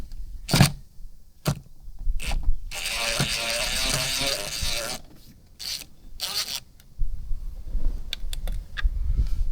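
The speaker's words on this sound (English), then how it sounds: "I'm just gonna put it right here and use the Phillips." Phillips screwdriver working screws out of a car door panel on a 1999–2003 Acura TL or Honda Accord, with sharp close clicks and a sustained ratcheting whir in the middle, followed by scattered taps and handling noises.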